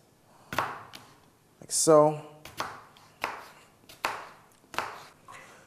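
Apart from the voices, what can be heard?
cutting an apple with a knife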